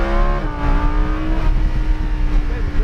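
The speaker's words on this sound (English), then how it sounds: "now we can accelerate Accelerate out. We can go full throttle." A race car on the Hallett Motor Speedway accelerates at full throttle, its engine note climbing steadily in pitch, loud and close from the cockpit.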